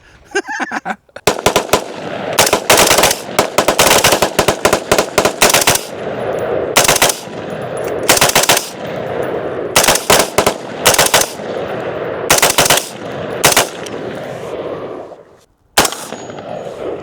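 Firearms shooting in the Arizona desert: loud, sharp reports in rapid bursts and single shots, some overlapping, repeating throughout with short gaps between volleys.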